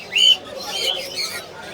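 Pet birds at the Mirpur bird market in Dhaka give a brief shrill squawk and some chirps over the murmur of the market crowd.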